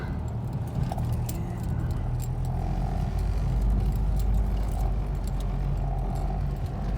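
A car drives over a rough road under construction, giving a steady low road rumble with intermittent rattles and knocks from the bumpy surface, heard from inside the car and without talk.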